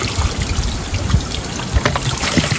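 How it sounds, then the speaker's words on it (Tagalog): Water runs from a spring-fed tap in a garden, a steady close trickle and splash with uneven gurgling bursts, no voices. "the water is running"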